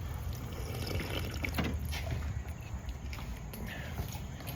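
Water poured into a glass outdoors on a walk, a continuous close splashing trickle that holds steady for several seconds, with no talking.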